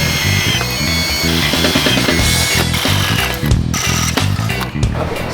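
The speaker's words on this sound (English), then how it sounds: "drill it, pre-drilling it with an 1/8 inch hole." A power drill whirs and grinds in uneven bursts, pre-drilling 1/8-inch holes in metal, its motor pitch rising and falling as it bites in, loud and close.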